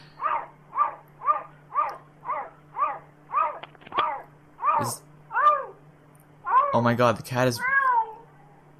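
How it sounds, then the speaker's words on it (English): A cat gives a run of about a dozen evenly spaced, dog-like yowls. After a short pause a person laughs and speaks loudly over the last calls. "the cat is making that noise. I thought that was a dog."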